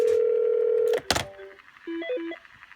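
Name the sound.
phone system incoming call ringing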